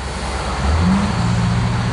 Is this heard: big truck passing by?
yes